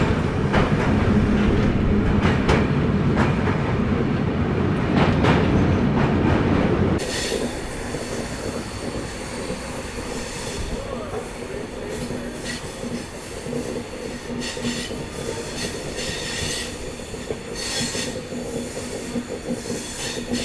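Humsafar Express passenger train rolling across the Yamuna river bridge, a loud, dense rumble of wheels and carriages for the first seven seconds, then dropping to a quieter steady clatter and hiss with occasional metallic squeals.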